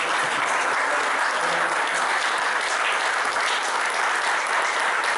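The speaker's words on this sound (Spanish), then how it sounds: "así que pido un aplauso" Continuous, even applause from an audience for the speaker Federico at a city forum event, dense clapping at steady volume throughout.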